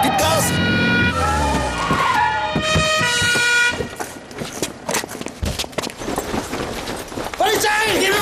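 A getaway car in a bank-robbery commercial revs and accelerates hard, tires screeching in a skid amid honking horns and a wailing siren, loud and close, with urgent voices speaking over the action.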